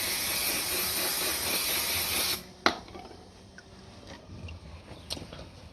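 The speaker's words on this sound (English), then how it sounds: "I'll clean my hands with a bit of brake clean." Brake cleaner sprayed onto hands in a garage during an Alfa Romeo 166 V6 oil change: a loud, steady aerosol hiss for about two seconds, then a sharp knock and quieter handling sounds.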